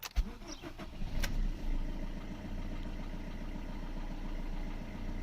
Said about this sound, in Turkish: Aracı şimdi çalıştırıyorum.